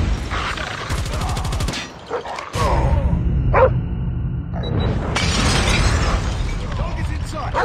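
A dog barks during a Call of Duty Mobile team deathmatch, heard through dense game audio of gunfire, a sharp shattering crash and busy combat noise, with voice callouts mixed in.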